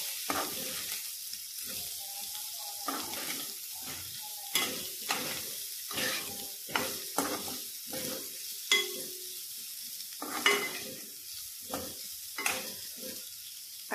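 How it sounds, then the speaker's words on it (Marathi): Boiled potatoes are stirred and fried with Maggi masala in a pan for a dry potato bhaji. Steady sizzling runs throughout, broken by repeated scraping stirs at an uneven rhythm, close and moderately loud. "आलू टाकते आता"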